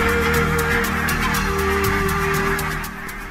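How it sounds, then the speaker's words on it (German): A large flock of wintering geese in Friesland, Holland, honks constantly, countless overlapping calls forming a loud, dense clamour that carries on steadily before easing slightly near the end. "Gänseschwärme können hier viele tausend Vögel umfassen."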